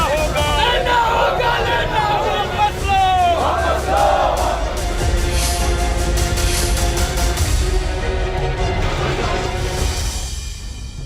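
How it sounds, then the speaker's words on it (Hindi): A violent protesting crowd rampages in Masaudhi, Bihar, a sustained roar of shouting and battle cries, loud and close, with overlapping yells rising and falling across the whole stretch. "पटना से 40 किलोमीटर दूर मसोढ़ी में हिंसक भीड़ ने देखिए"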